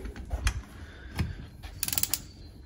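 A bolt is unscrewed with a makeshift tool, a stake levered through a fitting, producing a few sparse metallic clicks and ratcheting scrapes, ending in a quick cluster of sharp clinks.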